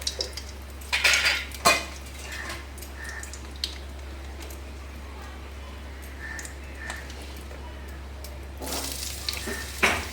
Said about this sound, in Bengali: এর মধ্যে এবার আলুগুলো দিয়ে দেবো